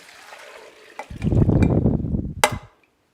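Water pours into a WonderMix mixer bowl in a splashing rush that starts suddenly, runs for about a second and a half, then stops.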